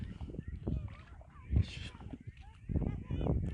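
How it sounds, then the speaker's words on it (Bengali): Ducks foraging out on a haor wetland beside a Bangladeshi village give scattered honking, quacking calls over a steady rustling outdoor background, with louder bursts in the middle and toward the end. "পাশে রয়েছে খুব সুন্দর হাঁস অসাধারণ ওরা ওরার খাদ্যের জন্য বাহির হয়েছে সেই হাওড়ে"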